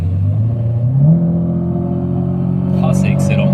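A Citroën Xsara with an automatic gearbox accelerating: the engine note rises, then settles into a steady rumble as the gearbox shifts, with someone talking briefly over it near the end.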